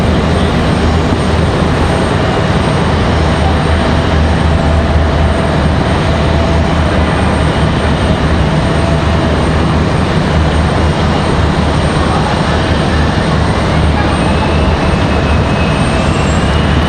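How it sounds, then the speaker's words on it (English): A CRJ regional jet departs from Raleigh-Durham International, its engines a loud, steady roar that holds evenly throughout with no talk over it. "Got another CRJ departure."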